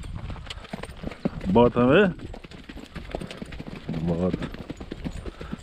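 Horse hooves clip-clop steadily as the horse is ridden on a Brazilian sertão cattle ranch during Nelore herd sorting, close and continuous under bursts of people talking.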